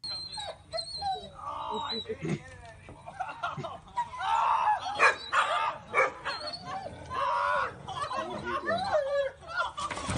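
A dog barks and yips repeatedly, with a few whimpers, as several people talk over it.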